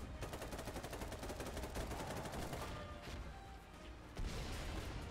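Rapid automatic gunfire rattles in dense bursts during a tank column battle in a video game, with heavier booming impacts toward the end and no talk.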